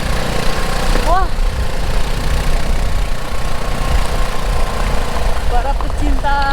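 A Vespa scooter engine runs steadily and close by on a rough jungle track, a continuous low mechanical drone with brief higher tonal chirps over it.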